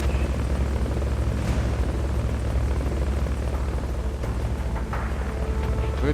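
Helicopter rotor and engine drone in the video game Metal Gear Solid: Peace Walker, a loud, steady low-pitched thrum filling the whole stretch without a break.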